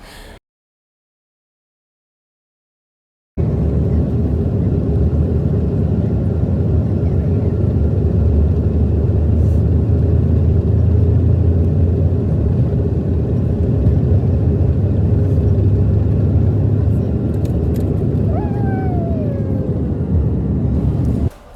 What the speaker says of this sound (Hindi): यहाँ पे जी देखें हमारा टेक ऑफ होने लगा है